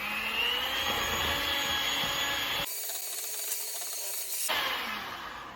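An electric mixer beats ginger molasses cookie dough with a loud, close, continuous whirring hum and a high whine, briefly changing tone in the middle before resuming.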